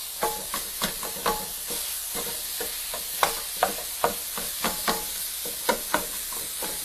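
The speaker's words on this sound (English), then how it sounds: "I'm going to start using my Pampered Chef mix and chop to break up that meat" Ground meat is broken up in a hot pan with a Pampered Chef mix and chop, a steady rhythm of scraping, tapping strokes over a continuous sizzle, close and fairly quiet.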